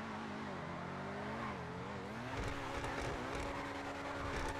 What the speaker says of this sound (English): Oh, this is classic drifting.